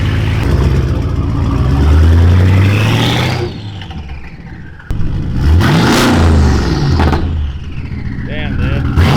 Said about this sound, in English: Dude, the turbo's so loud.